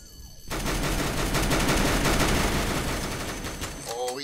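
Gunfire in the Roblox Mad City video game: a sudden sustained burst of rapid shots that starts after half a second, loud and continuous, fading near the end with a brief synthetic tone.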